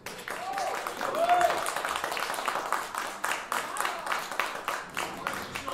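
An audience applauds a jazz quartet at a live concert, steady clapping that builds early, then thins into scattered claps for several seconds, fairly close.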